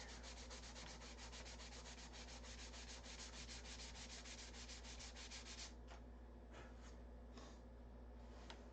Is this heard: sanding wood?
yes